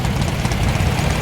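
A 1961 Holden's engine rumbles steadily and loudly up close as the car arrives at a Sydney car show, a low continuous idle-like drone throughout.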